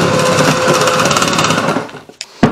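Electric beaters whir steadily through keto chocolate mousse ingredients in a bowl, a loud continuous motor buzz that cuts off near the end, followed by a couple of short knocks.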